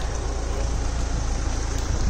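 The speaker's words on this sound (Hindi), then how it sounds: "इंजन की आवाज़ सुन सकते हैं तुसी?" A Mahindra XUV 700 engine idles steadily after a remote app start, a continuous low rumble that stays close and even throughout, with no talk over it.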